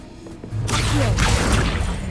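A summoning spell cast in Hogwarts Legacy: after a brief quiet lead-in, a sudden magical whoosh-and-crash effect flares and sustains as a loud, dense burst of game sound.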